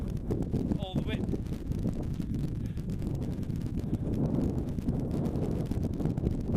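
Wind blows hard across a hilltop cairn on the West Highland Way, a steady loud buffeting roar against the microphone with a short voice or whistle near the start.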